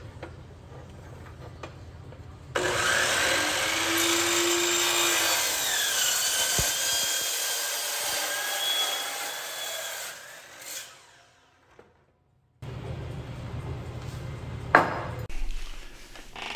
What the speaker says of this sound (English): So I'm gonna cut my aluminum tube 14 5/8 with a miter saw.